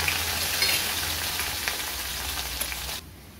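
Curry leaves, dried chillies, crushed garlic and fennel seeds sizzle in hot oil with a close, steady crackle that drops away abruptly near the end.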